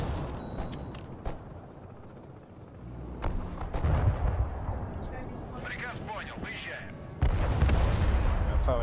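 Bombing and artillery fire in Broken Arrow: deep, rumbling blasts and a roaring barrage that swell and fall, ending in a loud final impact, while a voice speaks over the explosions.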